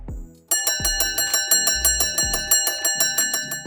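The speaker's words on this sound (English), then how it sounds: "At times you may hear the division bell. This is what it sounds like." The UK Parliament division bell rings continuously with rapid metallic strikes, loud and close, after a brief resonant tone at the start.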